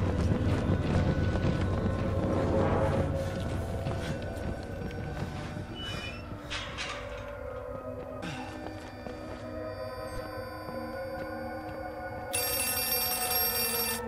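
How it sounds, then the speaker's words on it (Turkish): A telephone rings in the horror video game Outlast 2, its repeated bell tone standing out over a dense, rumbling game soundscape with scraping mechanical noise, no one speaking. "Aç aç, telefon aç."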